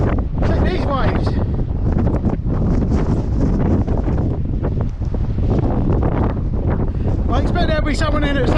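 Strong wind roars into the microphone on a coastline while sea waves break underneath, a loud, constant rush with no letup throughout.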